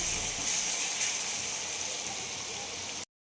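Onions sautéing with rock salt in a pan, a steady close sizzle with a bright hiss that holds for a few seconds, then stops abruptly.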